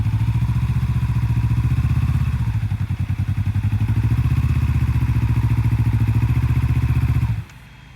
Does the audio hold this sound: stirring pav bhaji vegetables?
no